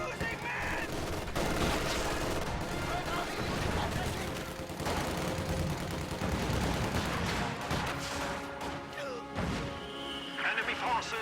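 Battle gunfire in the Reign 2 video game, dense overlapping rifle and machine-gun fire with crashes and impacts, under a brief shouted voice and game music.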